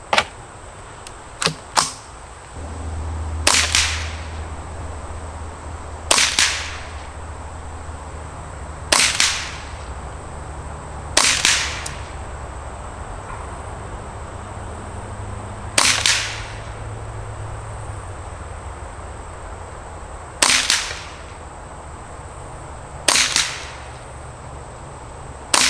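.22 LR rifle firing Eley 10X target ammunition outdoors at a range, about ten sharp cracks spaced a few seconds apart, the first two close together, over a quiet steady background.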